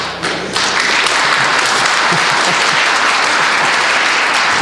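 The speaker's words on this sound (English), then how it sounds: "gets a rousing applause" An audience at a school board meeting breaks into loud, sustained clapping, dense and even throughout with no voices rising above it.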